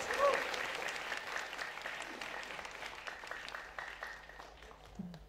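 Applause from an audience at a school theatre performance, the debut show of the Lembah Manah theatre group at MTs Negeri 1 Kudus, a steady wash of clapping that holds throughout and fades slightly toward the end.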